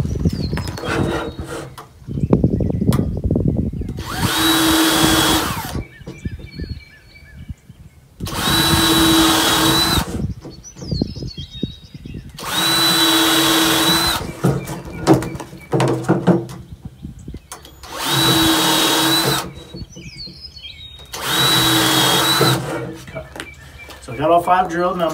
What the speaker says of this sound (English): So we should have 5 holes to drill.